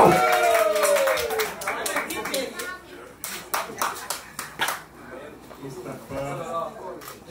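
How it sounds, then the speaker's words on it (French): Clapping breaks out for a chief at a traditional Kabiye wedding celebration, a loose round of hand claps in the room mixed with voices and talk, thinning into scattered claps toward the end. "S'il vous plaît, on applaudit."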